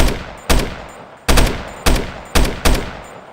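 A 20-round-magazine rifle in a Minecraft Bedrock mod fires five sharp, loud shots at uneven intervals, each with a short decaying tail, with no voices.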